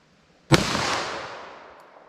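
A single sharp gunshot from a snub-nose .38 Special revolver, fired outdoors, with a loud crack followed by a long, fading rumble of echo.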